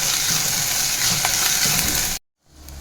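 Sliced onion and curry leaves, with green chillies, fry in hot oil in a pan, giving a loud, continuous sizzle with stirring scrapes before the sound cuts off abruptly and quieter frying resumes.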